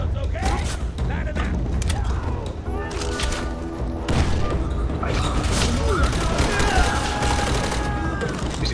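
Gunfire crackles in Call of Duty World at War co-op play, rapid volleys and booming blasts layered with mechanical clanks, loud and continuous beneath overlapping game dialogue and player talk.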